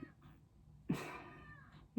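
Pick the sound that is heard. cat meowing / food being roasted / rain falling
cat meowing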